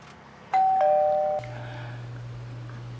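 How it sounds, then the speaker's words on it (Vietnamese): A two-tone doorbell chimes once, a clear bright ding-dong ringing out in a quiet home, followed by a steady low hum in the room. "Có chuông, thôi để tôi ra coi là ai nha."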